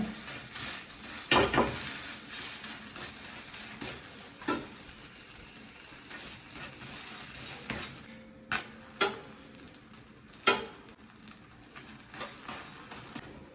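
Pork kizhi parotta fries on a hot pan with a steady sizzle, while scraping and a few sharp clinks of a spatula mark the flipping; no speech.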